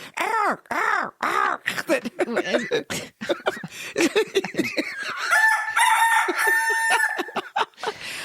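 Chickens cluck and a rooster crows repeatedly, loud and close, in a busy run of squawks with one long drawn-out crow near the end.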